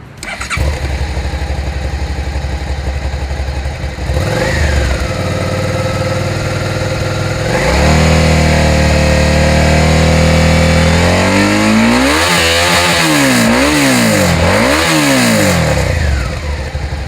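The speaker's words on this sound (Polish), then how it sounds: "bardzo fajny dźwięk silnika w tej najniższej, absolutnie najniższej partii obrotów przy rozpędzaniu się" A Suzuki SV 650 X motorcycle engine idles, then revs and accelerates repeatedly, pitch rising and falling through several gear changes, loud and close.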